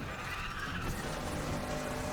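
A Nissan GT-R in the racing game Need for Speed: The Run drives with tires skidding, a steady engine roar and squeal filling the whole stretch without pause.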